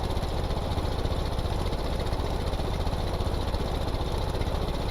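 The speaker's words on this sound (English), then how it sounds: "That's a 4-cylinder diesel. It's pretty fuel efficient, as you can see." A 4-cylinder diesel engine idling steadily in the video game Stormworks, a close, even, chugging drone with no voices over it.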